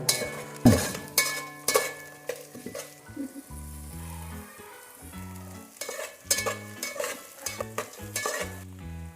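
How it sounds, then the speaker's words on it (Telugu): Green chillies sizzle as they fry in a pan, with a spoon clinking and scraping in repeated stirring strokes. The sound is close and moderately loud, with no talk. "పచ్చిమిరపకాయ వేసుకుందాం"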